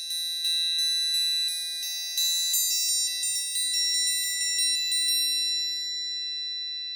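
A triangle played in a quick steady pattern, bright metallic pings struck repeatedly in even rhythm, close and clear with a ringing shimmer carrying between strikes and no voices.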